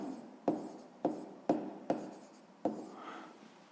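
Pen strokes on paper while a sixth-grade maths equation is worked out: several quick, separate scratching bursts roughly half a second apart, close and fairly quiet, with no talking.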